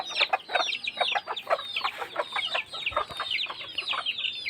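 A flock of native country chickens clucking busily, many overlapping calls close by in a rapid, continuous chatter.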